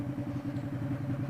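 A Kawasaki Vulcan 650 parallel-twin motorcycle engine runs steadily at close range, a constant loud rumble with a low throbbing pulse and no voices over it.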